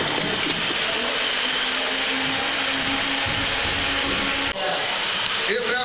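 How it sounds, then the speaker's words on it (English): A toilet is test-flushed right after being cleared with a plunger: a loud, steady rush of swirling water runs throughout, with a brief dip and gurgle near the end. "Give it a test flush."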